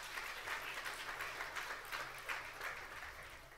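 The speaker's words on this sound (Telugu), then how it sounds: "నమ్మిన వారు గట్టిగా చప్పట్లు కొడదాము దేవునికి" A church congregation claps loudly and steadily, a dense wash of many hands with a few rhythmic swells, continuing without a pause.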